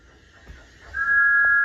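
A cartoon steam locomotive lets out a loud, sustained whistle: one steady, piercing tone that starts about halfway through and holds to the end, rising over quiet background noise.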